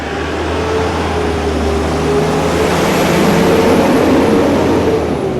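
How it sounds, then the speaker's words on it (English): A heavy garbage truck rumbles past on a residential street, a loud, steady low engine drone with broadband road noise holding throughout, no voices over it. "garbage trucks are everywhere"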